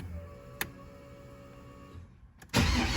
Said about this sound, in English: And I'm just gonna start it up one more again